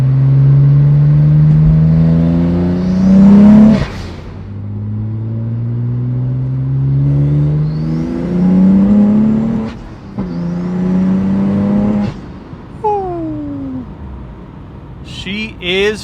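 A BMW E92 coupe accelerates through the gears, its engine note climbing steadily with each pull before a shift drops it back down, loud and close from inside the car.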